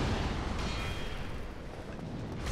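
A fireball is cast in Dark Souls and lands with a dense, roaring blast that rumbles steadily for about two seconds before easing off, with no voices.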